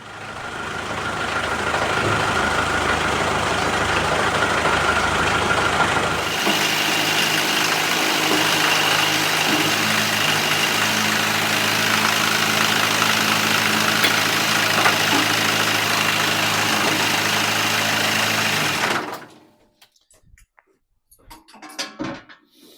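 A 55-year-old Mercedes Unimog U421 diesel engine idles steadily with a tractor-mounted hedge cutter attached, a loud continuous rumble that shifts in tone partway through and then cuts off abruptly near the end, leaving quiet rustling.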